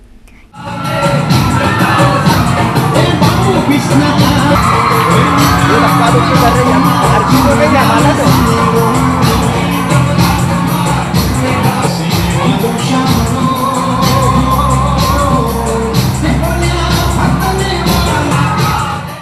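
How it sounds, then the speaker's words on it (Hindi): A dense crowd of women packs Gopal temple at Rajwada in Indore at night, filling the space with loud, continuous chatter, shouts and whoops that never let up. "रात को राजवाड़ा स्थित गोपाल मंदिर में इसी वजह से महिलाओं की काफी भीड़ थी।"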